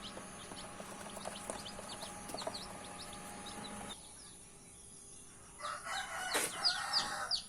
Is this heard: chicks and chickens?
yes